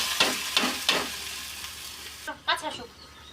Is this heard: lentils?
yes